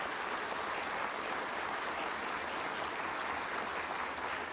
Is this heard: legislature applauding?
yes